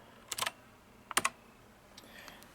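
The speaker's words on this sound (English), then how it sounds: "This one is Cherry MX Blue. You can hear the clickiness of it." Short bursts of crisp, clicky keystrokes on a full-size mechanical keyboard with Cherry MX Blue switches, two quick clusters followed by a few fainter taps in a quiet room.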